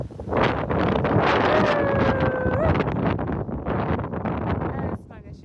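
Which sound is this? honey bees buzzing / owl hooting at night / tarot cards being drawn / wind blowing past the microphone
wind blowing past the microphone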